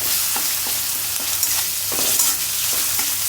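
Garlic paste fries and spatters in a hot pan, making a loud, close, unbroken sizzle dotted with small pops and stirring clicks throughout, and nobody speaks.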